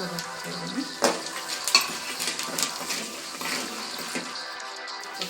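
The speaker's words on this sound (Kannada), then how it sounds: "ಉದ್ದಿನಬೇಳೆ, ಕಡಲೆಬೇಳೆ ಹಾಕ್ಕೊಳ್ತಾ ಇದ್ದೀನಿ" Urad dal and chana dal frying in hot oil for mango rice, a continuous close crackling sizzle broken by a few sharp clinks and scrapes of a spoon against the pan, with no talk.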